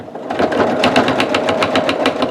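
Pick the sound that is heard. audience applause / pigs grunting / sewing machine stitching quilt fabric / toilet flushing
sewing machine stitching quilt fabric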